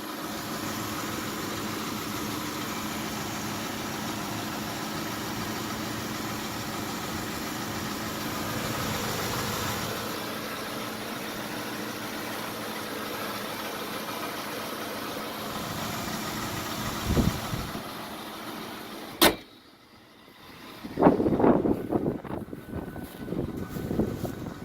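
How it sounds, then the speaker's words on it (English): 2002 Ford Explorer engine idles steadily under the hood with a faint knocking noise in the running sound, heard close up, then a sharp click and a brief drop before the engine noise returns. "can hear, I guess, that knocking noise."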